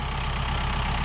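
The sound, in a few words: Kubota M4-071 tractor engine running while mowing hay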